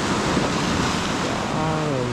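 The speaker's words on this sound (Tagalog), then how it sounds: "Tamang babad lang, tamang hinahampas ng alon yung mga bato." Sea waves wash against rocks in a fairly calm channel beside a campsite, a steady, close roar of surf with no clear breaks and no voices.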